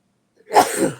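A single short, sharp sneeze bursts out close by and loud, then quickly trails off, with no talking.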